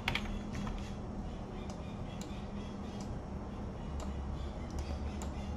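Typing on a computer keyboard, a steady run of light, quick key clicks spread through the whole stretch over a constant background hum.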